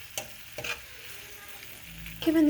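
Seafood for alfredo pasta sizzles softly in a pan, with a few sharp clatters from the utensil and a louder rush of frying near the end.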